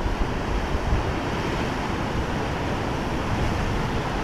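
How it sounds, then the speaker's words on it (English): Ocean waves break and wash onto the shore at Depoe Bay in a constant roar, with gusts of wind buffeting the microphone. "Can you hear the waves?"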